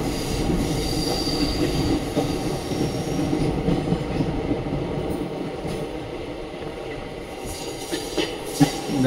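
Padmavathi Express passenger train rolling along the rails at speed, heard from inside the coach as a steady loud rumble with wheel squeal and occasional clacks, continuous throughout.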